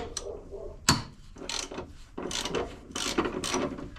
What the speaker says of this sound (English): Let me try with this ½ inch ratchet.